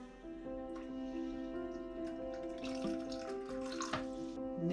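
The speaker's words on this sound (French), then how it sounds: "On ajoute 300 g d'eau." Water being poured into a cooking pot, 300 grams of it, giving a continuous ringing trickle that rises gently in pitch as the pot fills, heard close and alone.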